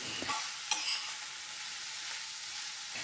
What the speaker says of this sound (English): I sauteed the onions until they changed the color